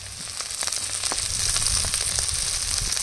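Spice paste with a little sugar and prawns sizzling and crackling in hot oil in a pan for a homemade prawn malai curry, a steady close frying hiss with small pops throughout.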